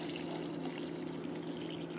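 A water, alcohol and vitamin C mixture pours steadily into a blender jar, a continuous close-up liquid rush lasting about two seconds with no voices.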